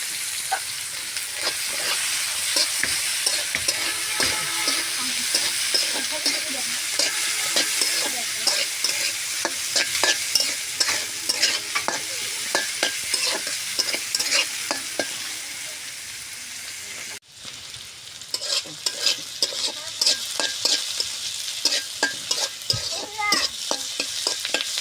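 Onions fry in a pan with steady sizzling and frequent scraping stirs throughout, close and continuous, with a brief pause partway through before the stirring resumes.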